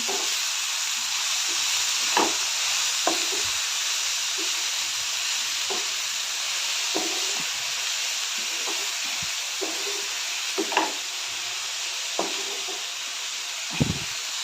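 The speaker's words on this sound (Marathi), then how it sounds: "ह्यामध्ये मी बारीक चिरलेली मेथी घालते मेथी चांगले ह्यामध्ये मिक्स करून चांगलं भाजून घेते" Finely chopped fenugreek leaves stir-fry with tomato in a pan for a dhaba-style garlic methi dish, giving a steady, close frying hiss. Spatula scrapes and clacks recur irregularly throughout.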